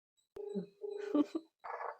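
A telephone being dialed, with a few short tonal beeps close by, mixed in with brief bits of speech and quiet gaps.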